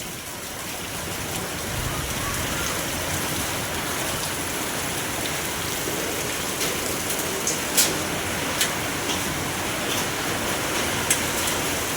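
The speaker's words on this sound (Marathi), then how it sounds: "पाऊस पडतोय जोरात" Heavy rain with hail pouring down on a garden during a storm, a steady dense hiss for the whole stretch, with a few sharp ticks of impacts standing out in its latter half.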